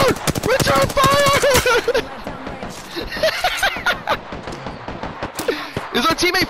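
Video game firefight with scattered gunshots and bursts of fire beneath excited, shouting voices and laughter from several players talking over the shooting.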